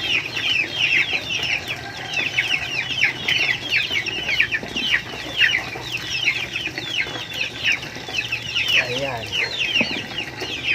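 Chickens cluck and chatter continuously in a busy flock, close and steady, with occasional louder squawks over farmyard background noise.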